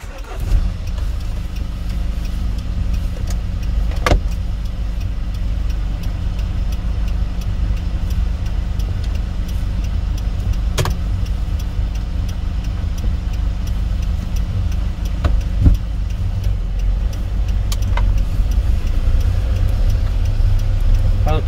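A car pulls away at the start of a driving test: a close, steady engine drone runs throughout, broken by a few sharp clicks, with no voices.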